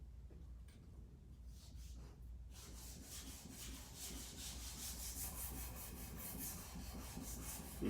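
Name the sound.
metal hand plane rubbed across sandpaper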